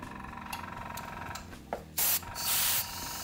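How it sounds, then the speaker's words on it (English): An airbrush sprays alcohol ink in short hissing bursts, with a brief puff followed by longer loud sprays of air near the microphone and no talking. "I think we will go for the airbrush for this one."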